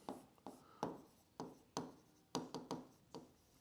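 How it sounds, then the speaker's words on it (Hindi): A teacher writing a note on a board during an accounting class, with about nine distinct sharp strokes in an uneven rhythm, close and fairly quiet, no talking. "एक नोट लिखना, एक नोट लिखेंगे बच्चों"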